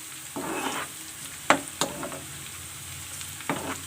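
Onions frying in hot oil with garam masala for a tadka tempering for masoor dal pulao: a steady close sizzle broken by a few sharp stirring scrapes and clinks against the pan.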